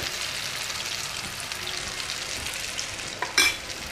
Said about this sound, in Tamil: சட்டியில் எண்ணெய் ஊற்றி நல்லா சூடாயிடுச்சு. இப்போ முட்டையை சேர்த்துடும்.